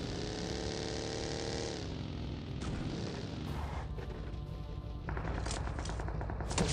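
Rapid automatic gunfire crackles in a PUBG Mobile firefight, with dense overlapping bursts that pause briefly and then resume in sharper rattling volleys.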